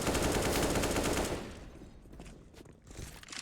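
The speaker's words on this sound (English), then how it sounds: "M4 is still in play here onto Paxton." Rapid automatic M4 rifle fire in Counter-Strike: GO, a dense loud burst of shots for about a second and a half, then fading to quieter scattered in-game sounds.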